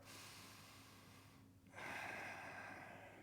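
A single breath drawn during a yoga stretch, a brief hush followed by a steady, fairly loud airy inhale close to the microphone, with no talking.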